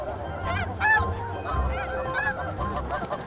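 A flock of snow geese honks at their Arctic nesting grounds, many overlapping calls rising from a busy, continuous din close by and at a distance.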